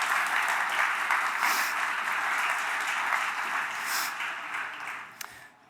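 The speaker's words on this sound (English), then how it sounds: "So a round of applause, please." A conference audience applauds steadily for several seconds, the clapping thinning out toward the end.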